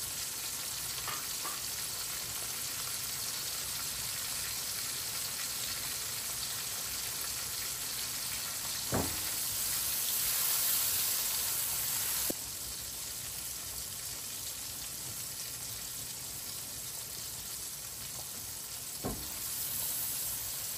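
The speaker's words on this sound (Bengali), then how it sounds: "পেঁয়াজটা একটু ভালো করে ভেজে নিলাম।" Onion fries in a pan with a steady, close hiss of sizzling oil, broken by a few faint clicks of stirring and no talking.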